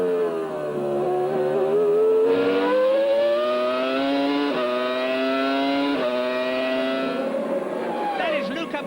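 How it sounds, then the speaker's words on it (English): A 1999 Formula One car with a Supertech engine screams past at racing speed, its high-pitched wail rising and dropping with gear changes, under a commentator's voice. "Now just listen to that Supertech engine."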